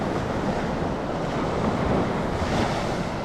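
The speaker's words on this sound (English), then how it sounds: "Let the waves come up." Ocean waves wash up on Navarre Beach at night, a continuous broadband roar of surf with wind buffeting the microphone, steady and close throughout.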